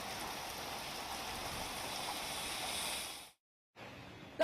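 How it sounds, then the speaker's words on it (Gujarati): A heavy monsoon rain shower in the Prahladnagar area of Ahmedabad gives a dense, steady hiss of rainfall that cuts out briefly near the end before resuming. "અમદાવાદના પ્રહલાદનગર વિસ્તારમાં વરસાદનું ઝાપટું આવ્યું"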